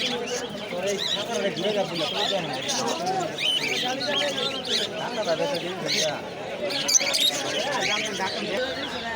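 Lovebirds chirp in cages at a wholesale bird market in Fatullah, Narayanganj, giving scattered high tweets amid a busy background of crowd chatter and people talking nearby.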